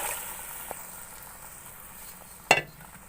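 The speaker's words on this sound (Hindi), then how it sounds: "इस मिसाले में थोड़ी देर लोबिया को भून लूंगी" Boiled red lobia beans frying in masala in a pan, a low steady sizzle with one sharp clatter of stirring near the end, close and quiet.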